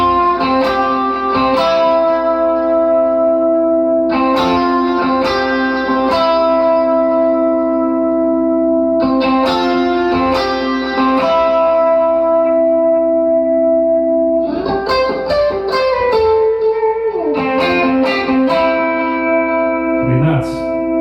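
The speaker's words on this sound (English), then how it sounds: "So here's just a sample of like a clean jazz chorus preamp" Clean jazz chorus guitar tone from a Boss GT-1 multi-effects unit with delay and reverb, chords ringing out in lush repeating phrases, loud and alone with no talking.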